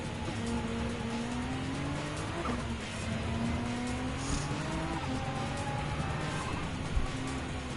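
Race cars, including a Corvette C7 Group 3, compete in a race on Alpine Hill in the video game Gran Turismo 7. Engines whine and rise steadily through the gears while tires squeal, and cars rush past close by without pause.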